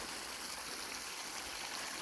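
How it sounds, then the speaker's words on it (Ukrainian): Water rushing steadily out of a drained dacha fish pond, a continuous dense loud gush with no pauses. "Все, пустив воду. Ось пішла вода,"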